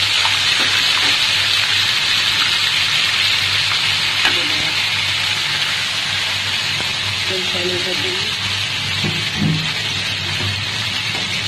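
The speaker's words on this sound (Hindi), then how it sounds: "चिकन को थोड़ा सा फ्राई करेंगे।" Chicken pieces fry in hot oil with garlic and ginger in a karahi, a loud, continuous sizzle with occasional stirring scrapes, under a voice talking over the cooking.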